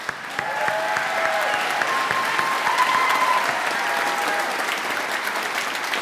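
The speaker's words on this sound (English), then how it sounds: "Let's give them a big round of applause" A school moving-up ceremony audience breaks into sustained, full applause, dense clapping swelling quickly and holding steady for several seconds with scattered cheers.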